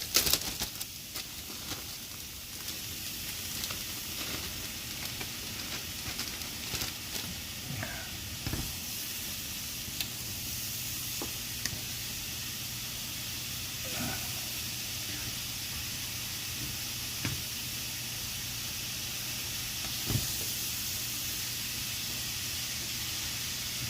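Mushrooms sizzling and hissing steadily in a hot pan for vegan Japanese fried rice, a continuous broad frying hiss with a few faint clicks and knocks, no talking.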